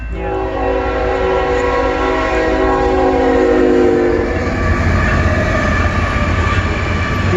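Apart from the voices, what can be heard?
CN eastbound mixed freight train passing and honking horn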